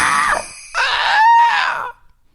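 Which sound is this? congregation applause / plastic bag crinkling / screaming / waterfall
screaming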